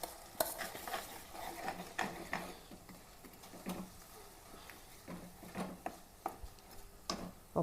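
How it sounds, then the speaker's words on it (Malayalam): Masala paste being stirred into sautéed onion, ginger and garlic in a pan for a fish curry, with repeated scraping spoon strokes and a soft sizzle close by, no talking. "ഉള്ളി ഇഞ്ചിയും വെളുത്തുള്ളിയൊക്കെ ഒന്ന് വാടിയിട്ടുണ്ട്. നമുക്ക് ഇതിലേക്ക് അരപ്പിട്ട് കൊടുക്കാം."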